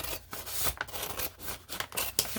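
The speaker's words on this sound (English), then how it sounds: "So I'm just using my scissors to cut the bottom off" Scissors snip repeatedly through a crisp paper bag, a series of close, rustling cuts in an uneven rhythm with no voices.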